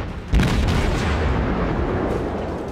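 A cruiser firing armor-piercing shells in a World of Warships naval battle, the Tenryu, a single loud booming salvo that fades into a long rumbling roar, no voices.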